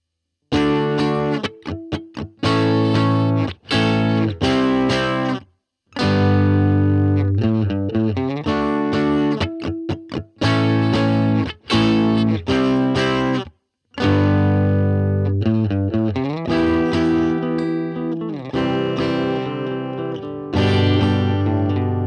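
Guitar playing a movable barre chord progression of major and minor chords on the fifth and sixth strings through distortion and chorus effects, with loud sustained strummed chords separated by brief gaps and no talking.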